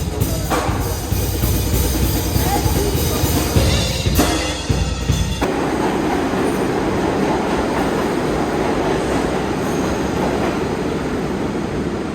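Loud, steady rumble of a New York City subway train riding along the tracks, with rattling and a brief squealing screech before the roar settles into a lower drone.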